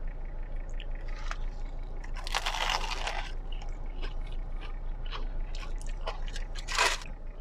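Crispy Al Tazej burger being bitten and chewed close to the microphone in Makkah. Two loud, sharp crunches stand out, one early and one near the end, with softer chewing and crackling between them.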